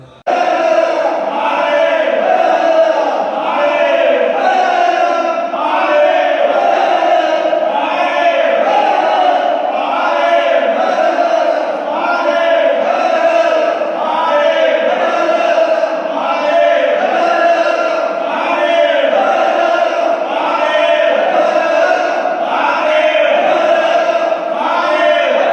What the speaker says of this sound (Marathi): सर्वांनी एकच जल्लोष चालू केला, तो म्हणजे हर हर महादेव